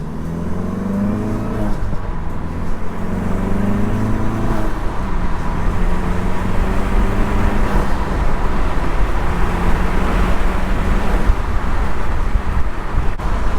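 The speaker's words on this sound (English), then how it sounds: "Gonna do some cruising, regular cruising" A car fitted with an OEM intercooler cruises and then accelerates. A steady engine drone rises in pitch over a loud wash of road and wind noise, heard from inside the car.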